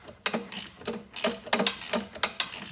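Ratchet with a 15 mm socket backing out screws during a brake repair, a close series of sharp clicking bursts in an irregular rhythm, with no talk.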